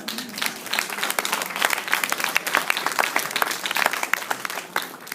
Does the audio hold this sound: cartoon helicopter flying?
no